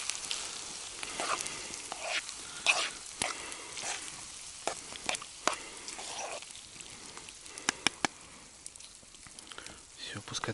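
Mushrooms fry in a pan over a campfire in the taiga, a soft steady sizzle dotted with scattered pops and sharp crackles, close and moderately quiet.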